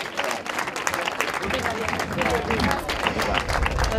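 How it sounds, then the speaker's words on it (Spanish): Crowd applause for a runner-up at the awards ceremony of the Roman Race Potencia in Cascante, 2017, loud dense clapping with some crowd noise that swells toward the end. "Fuerte aplauso para ella, para Miriam"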